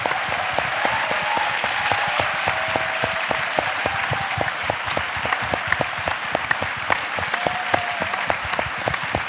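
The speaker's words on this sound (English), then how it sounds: "Nusiforo deserves a round of applause." An audience applauds a retired NYPD detective at a Blue Bloods fan event, with sustained, dense clapping from a sizeable crowd that holds steady throughout.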